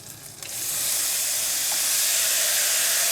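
Bean sprouts hit a hot pan of oil and salted fish, setting off a loud rushing sizzle that swells within the first second and holds steady and close.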